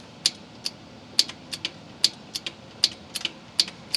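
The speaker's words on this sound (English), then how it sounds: "When I turn the key, you can hear it click." Repeated sharp clicks from a John Deere tractor as the key is turned with the parking brake on, a dozen or so quick, light ticks at uneven intervals over a faint steady background, no voices.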